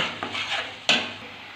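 Tomato and onion paste being stirred as it fries in a pan, with a few scraping strokes of a spoon against the metal and one sharper clink near the end over a faint sizzle.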